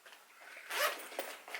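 A plastic-feeling Temu bag's zipper is pulled open, a close rasping zip that swells in the middle and ends with a couple of small tugs, heard alone without talk.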